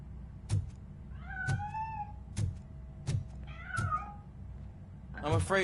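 A cat meows twice in RoboCop: Rogue City, two drawn-out, wavering cries set among sharp repeated thuds. A rising, strained third cry comes at the end. No one talks.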